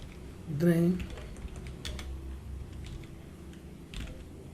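Light tapping of keys on a computer keyboard during desktop software work, a few scattered quiet clicks with a brief louder knock near the start, under a soft room background.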